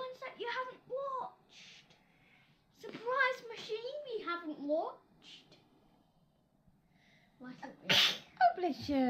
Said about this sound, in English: You sneezed at